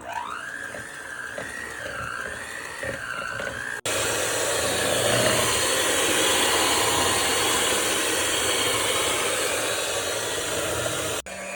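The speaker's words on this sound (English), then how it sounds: "I have a hand mixer, and I am now softening the butter and the cream cheese." A hand mixer softening butter and cream cheese whirs loudly and steadily up close, preceded by a shorter whining motor stretch with changing pitch before the louder constant run.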